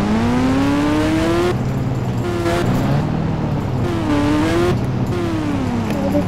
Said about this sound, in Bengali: মেলা স্পিডে চালাবো এই বাইকটাকে